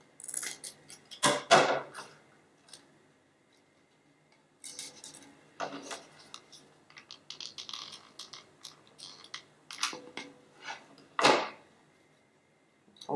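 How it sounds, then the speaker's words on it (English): Scissors snip ribbon for a craft project amid quiet handling, with a few sharp, close cuts and bursts of rustling and scraping between pauses. "I'm just going to cut it right there."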